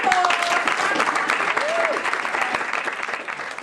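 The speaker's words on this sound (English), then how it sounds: "applause!" An audience at a comedy show applauds, a steady, fairly close patter of many hands clapping that continues evenly for several seconds, with a brief voice or whistle-like tone cutting through near the start.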